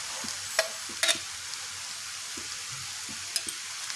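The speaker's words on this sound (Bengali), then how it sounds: "চালটা এখন গাজরের সাথে একটু নেড়ে নেব।" A spatula scrapes and taps against a pan in scattered strokes, stirring ground rice and carrots for carrot kheer over a low, constant sizzle of frying.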